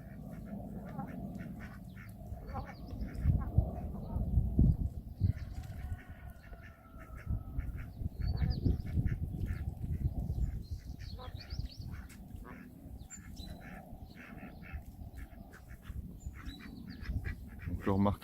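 Indian runner ducks in a vegetable garden give a steady stream of soft, contented quacks and chatter, some close and some farther off, with a voice speaking now and then over the flock.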